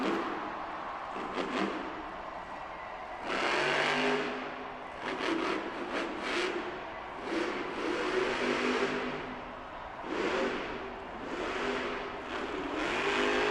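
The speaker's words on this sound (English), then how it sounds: "Bari Musawwir now whips El Toro Loco back around across the pod again" El Toro Loco monster truck revving hard in an indoor Monster Jam arena event in Austin, Texas, its engine roaring in repeated loud surges and bursts with brief lulls between them.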